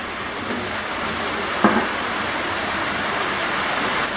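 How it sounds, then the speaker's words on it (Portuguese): Steady rain pours outside a home, a dense even hiss that holds for the whole stretch with no voices, broken only by one brief soft knock partway through. "Chuva!"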